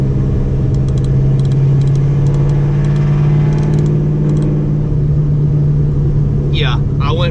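A 2015 SS Camaro with an Eaton TrueTrac differential, its engine rumbling steadily and loudly up close with a strong low drone, faint clicking ticks overhead and a brief sharp noise near the end.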